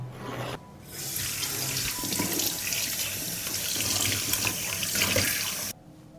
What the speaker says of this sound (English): First, I'll wash the eggshells.